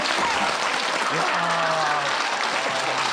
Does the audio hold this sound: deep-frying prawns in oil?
no